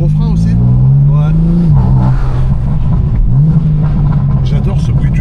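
A 1000-horsepower BMW engine drones loudly up close with a deep, rising and falling intake note, and voices talk over it inside the car.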